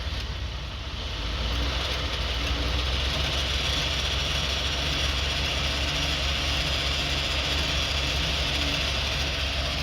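A car engine runs close by with the gas pressed lightly, rising in the first two seconds and then holding a steady, loud, low drone with no clear revs.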